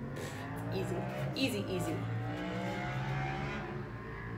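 Road traffic from outside drifts in through a window, a steady low rumble of passing cars that runs continuously beneath a person talking close by indoors.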